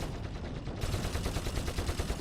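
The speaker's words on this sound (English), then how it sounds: "Somebody got a shot off." Rapid automatic gunfire in the video game Eternal Crusade, a dense, continuous burst of repeated shots with a steady stutter and no talk.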